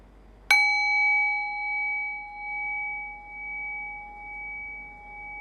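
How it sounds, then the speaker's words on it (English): A meditation bell strikes once with a bright, clear attack, then its pure ringing tones decay slowly over several seconds with a gentle pulsing waver, alone in the quiet. "Rest your awareness on the decay of the bell."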